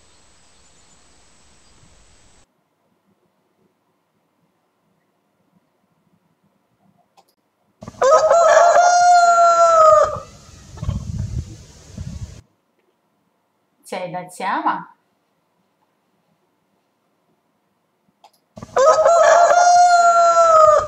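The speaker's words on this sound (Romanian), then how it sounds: "Cocoșul." A rooster crows loudly twice, each long cock-a-doodle-doo standing out clearly, with a short spoken question between the calls and another brief animal call in the gap.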